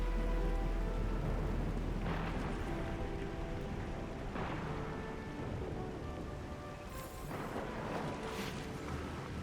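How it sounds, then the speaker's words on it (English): Heavy rain pours steadily in Arknights: Endfield, a dense continuous hiss with no talk, broken by a few brief louder surges of downpour. "It's raining harder. I can't hear anything except for the rain."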